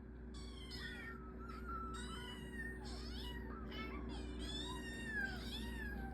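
Kittens meow repeatedly at dinner time, with several high, rising and falling cries overlapping one another at close range over a faint steady background hum.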